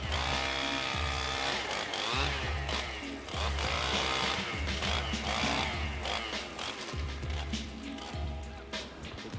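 A chainsaw roars steadily and loudly as it cuts into a tree, its engine pitch rising and dipping in repeated surges as it bites through wood.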